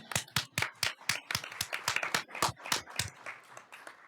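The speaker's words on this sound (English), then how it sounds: "Can we break out into loud applause now?" Applause at a school district governing board meeting after a unanimous vote, heard as a few people clapping in a sparse, uneven patter of distinct claps, close and moderately loud with no talk over it.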